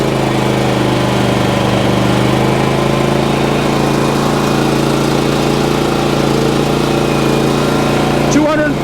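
A Predator Inverter 8750 generator runs after an electric start, a loud, steady engine hum with a constant low drone that holds unchanged throughout, ending in a brief knock near the close.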